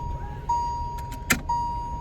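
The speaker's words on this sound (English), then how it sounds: "Car was beeping" An electronic car warning chime beeps in steady pulses inside the vehicle, a thin clear tone repeating over a faint low hum, with a brief clunk and rustle in between.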